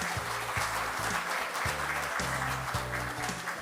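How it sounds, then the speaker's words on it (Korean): An audience applauds at a forum, a dense, steady wash of clapping that carries on throughout, with a low humming tone pulsing underneath. "큰 박수 부탁드립니다."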